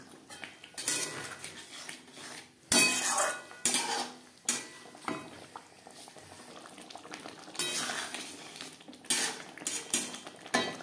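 Potatoes and red chili powder being stirred in a pan for a vegetarian kohlrabi curry, with repeated scraping and clattering of a utensil against metal over a steady sizzling bubble, louder bursts coming and going.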